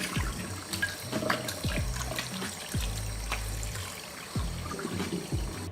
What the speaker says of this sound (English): And rinse off the excess cornstarch and salt.